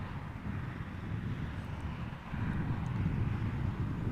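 A one-year-old Transavia Embraer E2 airliner arrives at Amsterdam Schiphol, heard as a faint, distant, steady jet roar with some wind noise.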